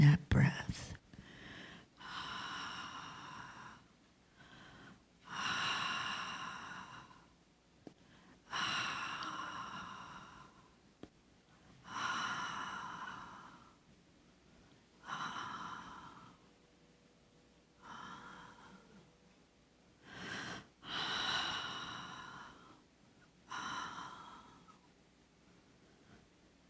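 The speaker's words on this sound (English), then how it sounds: "Slow down that breath." Slow, relaxed breaths during a guided meditation, long airy exhales with occasional sighs and soft sniffs, repeating at an unhurried pace every few seconds, close and quiet.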